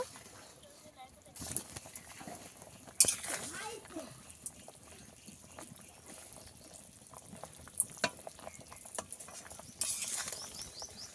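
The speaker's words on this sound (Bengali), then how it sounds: "ঝোল ভালোভাবে ফুটে গেছে, আরো কিছুক্ষণ ফুটিয়ে নেব।" Catfish and green banana curry broth boiling in a pot, a steady close bubbling patter with a few sharper spits and bursts, and faint background sounds underneath.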